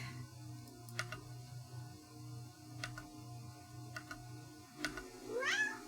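A cat meows near the end, a short rising cry after a few seconds of faint ticking and low background hum in an indoor room, with no talk over it.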